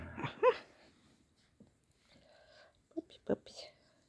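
Dog whimpering softly in a few short, faint whines indoors, mixed with quiet human whispering and talk.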